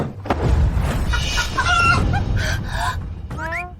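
A big-combed rooster clucks repeatedly at close range, then lets out a rising crow near the end, loud and clear over a busy indoor wedding ceremony with faint background murmur.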